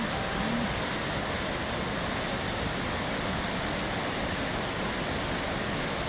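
Huai Chan waterfall in Khun Han, Sisaket, a steady, dense roar of falling water that holds even and unbroken throughout, with no other sounds standing out.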